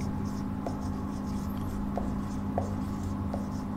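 Pen scratching out a trigonometry solution by hand on paper, soft steady strokes with small taps, close and quiet over a low constant hum, no talking.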